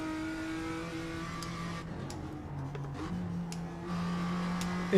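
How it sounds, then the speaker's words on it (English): A race car on the Summit Point circuit accelerates hard, its steady engine note rising and shifting pitch through gear changes, heard at a moderate, slightly muffled level with no talking. "And here he goes on the gas like there's no tomorrow."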